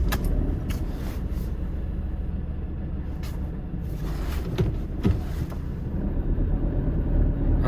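A van's engine runs flat out under full throttle, a loud, continuous low roar heard from inside the cab, with a few faint knocks and rattles on top.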